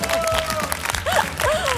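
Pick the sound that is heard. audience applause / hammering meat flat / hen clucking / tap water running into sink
audience applause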